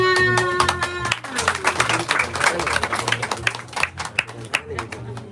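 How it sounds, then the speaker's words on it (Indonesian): A small group claps after books for children are handed over at a community gathering in Papua, a short burst of scattered hand claps over a low hum, with a voice speaking briefly at the start. "Tepuk tangan"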